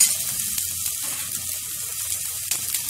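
Chopped onion sizzles and fries in hot oil in a pan while an omelette is being made, a steady close crackling hiss with small spattering pops throughout and nobody speaking.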